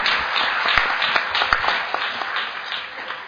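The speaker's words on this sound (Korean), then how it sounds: "힘찬 박수로 맞아주시기 바랍니다." An outdoor political rally crowd welcomes a former party leader with clapping, scattered sharp hand claps over a rushing mass of applause, moderately loud and a little distant, with a steady high tone running beneath.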